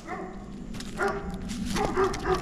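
Dogs bark in a rural yard, a few short barks at moderate distance with a faint steady background hum, and no talk over them.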